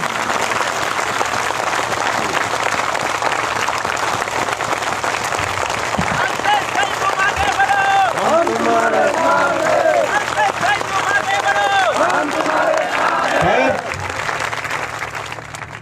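A crowd at a political rally in Banaskantha claps in a dense, sustained wash of applause, with voices shouting and calling out over the clapping.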